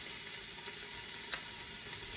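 Canadian bacon crisping in a pan for a white bean and kale soup, a steady close sizzle and hiss with one brief sharp pop partway through, no talking.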